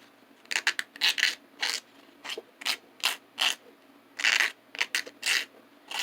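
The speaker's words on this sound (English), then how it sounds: "I'm going to take a piece of sandpaper and just kind of like get the tarnish off there." Sandpaper rubs the tarnish off a copper wire before tinning with flux, heard as about a dozen short, rhythmic scraping strokes, close and crisp, with brief pauses between them and no talking.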